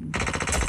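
Rapid automatic gunfire from the Indus Battle Royale video game, a loud rattling burst of fast repeated shots lasting under a second, alone without talk.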